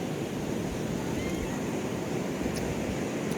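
Waves wash steadily at Shrivardhan beach, a constant broad surf roar mixed with wind, close and unbroken, with faint distant sounds on top.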